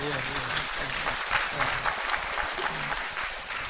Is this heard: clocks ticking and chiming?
no